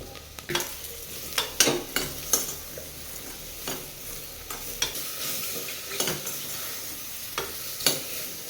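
Mushrooms frying with onions in hot oil, a steady close sizzle broken by repeated sharp scrapes and stirring clatters spread through the whole stretch, with no voices.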